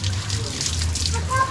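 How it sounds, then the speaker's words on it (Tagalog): Poolside shower running at a Bolinao vacation villa, a steady hiss of spraying water close by with voices talking underneath. "There's my darling taking a shower before dipping in the pool."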